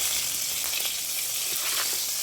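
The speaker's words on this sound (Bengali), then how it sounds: "এখানে একটু লবণ আর হলুদ দিয়ে ভেজে নিলাম" Turmeric and salt frying in hot oil with dried fish sizzle steadily and loudly at close range, a constant bright hiss with faint stirring scrapes and no talk over it.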